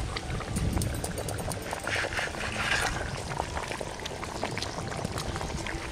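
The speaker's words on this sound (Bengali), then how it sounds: "ঝোলটা ভালো করে ফুটে গেছে" Roopchand fish curry with yellow cauliflower boiling in a pot, a dense close bubbling and gurgling that runs steadily throughout.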